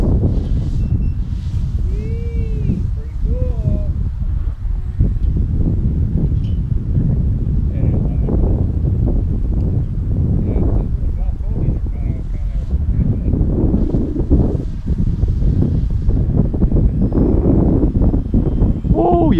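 Strong wind buffets an outdoor microphone in steady rumbling gusts for the whole stretch, with excited voices chattering and calling out over the roar.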